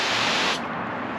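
A garden water hose nozzle on its mist setting gives a loud, steady hiss of fine spray, close and continuous, its tone dulling slightly partway through.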